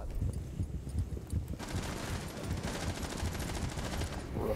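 Rapid gunfire rattles in Rainbow Six Siege, a moderately loud burst of automatic shots running through a few seconds, with a brief voice near the start.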